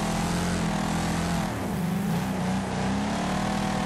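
A car in the demolition racing game Wreckfest drifts around the track, its engine droning loudly and continuously with shifting revs and a wavering pitch, close and dominant throughout.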